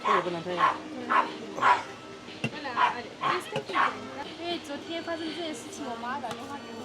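A dog gives a series of short yips and barks, close by, with whimpery tones mixed in between the sounds.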